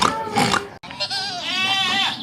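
Goats bleat at a theme park animal area, several wavering, nasal calls close by in quick succession, with no talk over them.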